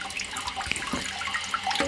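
Toilet tank running water, a continuous close hiss and trickle of flowing water with faint drips and gurgles, steady throughout with no talking.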